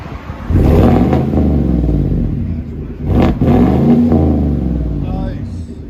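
A 2020 Chevy Silverado with a 5.3L V8 and Flowmaster Flow FX exhaust, resonator kept, revs up loud and close, rising twice in sustained throttle sweeps that fall back between blips, with no talk over it.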